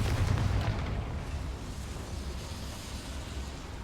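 Confringo fire spell blast in Hogwarts Legacy: a heavy explosive boom bursts at the start, then a long rumbling low-frequency decay lingers loud, no talk over it.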